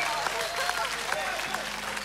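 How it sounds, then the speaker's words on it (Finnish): Standing ovation from a live audience at a Finnish talent show, steady dense clapping throughout, fairly loud with a voice talking over it. "Jengi taputtaa seisten tuolla."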